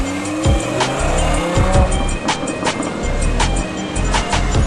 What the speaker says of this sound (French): Au volant de cette Lamborghini Huracan